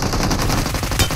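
Rapid automatic gunfire from a shooting video game rattles out in a dense, fast burst, loud and close, with no speech over it.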